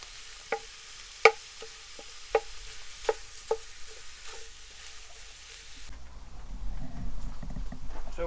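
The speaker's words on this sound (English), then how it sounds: "Get the bacon good and crispy." Bacon frying in a pan: sharp metallic clicks and scrapes of stirring tick out at intervals over a faint hiss, and then a louder, steady sizzle swells and fills the last couple of seconds.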